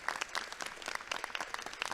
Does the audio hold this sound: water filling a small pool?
no